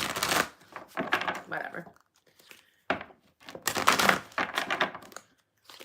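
Tarot cards are shuffled up close in repeated papery riffles and slides, broken by short pauses, with a little talking mixed in.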